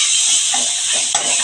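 Spice paste with cooked-down tomato sizzles in a pan over raised gas heat, a steady frying hiss broken by a couple of soft scraping stirs close by.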